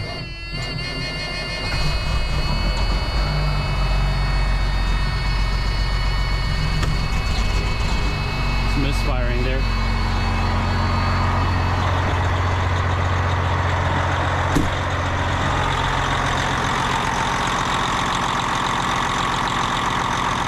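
A newly installed engine, chilly and smoking white after its first oil change, cranks and fires up, then settles into a loud, steady, rumbling idle close by for a long stretch, with no talking over it.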